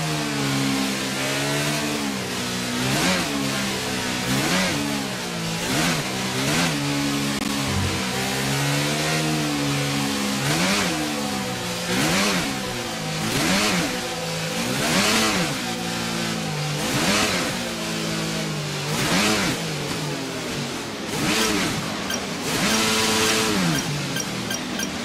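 An Alpine Formula 1 race car in F1 22 revs hard up through its gears on track, a loud, steady engine note with repeated rising sweeps as each gear is taken, alone with no talk.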